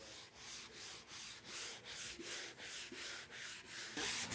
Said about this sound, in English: we're sanding these out now with some 100 paper